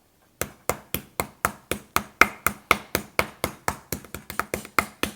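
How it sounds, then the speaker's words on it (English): A pronged metal meat tenderizer pounds grillades of meat on a cutting board for a New Orleans grits dish, landing about twenty sharp, close, evenly spaced thuds in steady rhythm with no talking. "And I'm using the meat tenderizer with the little prongs on it."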